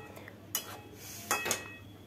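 A utensil stirring pointed gourd curry with garam masala in a pan gives a few quiet metallic clinks and scrapes, one on its own and then a short cluster of two against a soft background.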